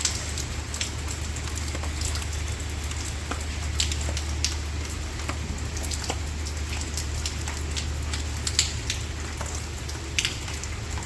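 Steady rain falls and patters on surfaces nearby, with scattered louder drips and taps over a constant hiss, fairly quiet with no voices.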